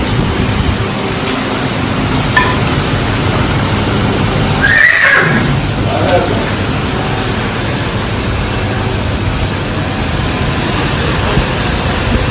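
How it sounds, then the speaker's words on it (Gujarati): A single mare whinnies loudly midway through, rising and falling, over steady rushing wind noise. "આપણે ઘોડીને બારા લઈને વહી આવ્યા છીએ"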